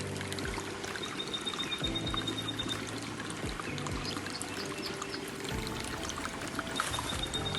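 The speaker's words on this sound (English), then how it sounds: "the sound of that water tells me there's a lot of water here" Water running steadily along a channel in rural Zimbabwe, a constant close trickling and pouring wash with no voices.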